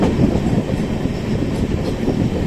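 A train to Darjeeling rolls steadily along the rails with a constant low rumble and faint rhythmic clatter, heard from close by with no talking.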